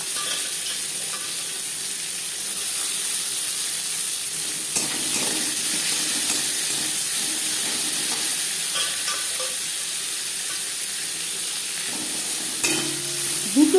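Chopped onions sizzle in hot oil with bay leaf, dried red chili and whole cumin, a steady, loud frying hiss with occasional stirring scrapes throughout.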